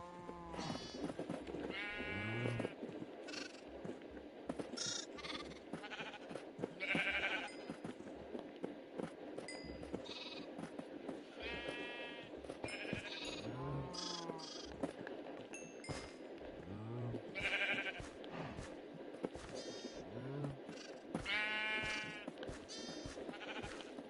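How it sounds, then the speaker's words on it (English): Sheep in Minecraft bleating again and again, a loud, clear series of game bleats spread through the whole stretch with short gaps between calls. "Jeb Sheep."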